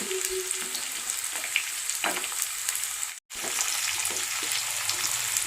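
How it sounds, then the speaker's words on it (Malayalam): Shallots and garlic frying in hot oil for a fish head curry give a steady close sizzle, with occasional stirring clinks and a brief cut near the middle. "നമുക്ക് ചെറിയുള്ളി ഇട്ട് കൊടുക്കാം ഇനി വെളുത്തുള്ളി ഇട്ട് കൊടുക്കാം"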